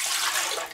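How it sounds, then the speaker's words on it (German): Water poured into a bread dough machine while making wholegrain bread, a brief close splashing rush of liquid with no voices. "So, gebe ich erstmal Wasser rein"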